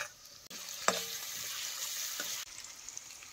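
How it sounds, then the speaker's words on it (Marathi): Onion and tomato fry in hot oil, giving a continuous close hiss with a sharp clack of a utensil, a brief stirring scrape, and a sudden drop in the sizzle near the end. "आता कांदा भाजलाय तेलात चांगला"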